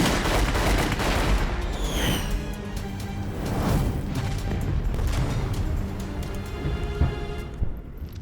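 Sustained loud gunfire and explosive blasts in a sci-fi battle scene, dense overlapping bursts with whooshing projectiles and crashing impacts, continuous without pause across the whole stretch.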